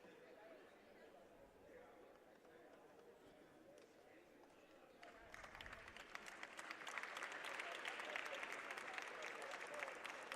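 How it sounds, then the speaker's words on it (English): Crowd applause ringing through a gym at a women's basketball game against CCBC Essex, starting as low murmur then swelling into sustained clapping after an injured player is helped up; background chatter blends in. "You can hear the applause from the crowd."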